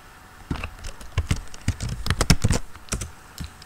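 Rapid, irregular clicking of keys on a computer keyboard, close and clear, in uneven bursts with short pauses, while a search is typed during a Node.js setup on an Ubuntu server.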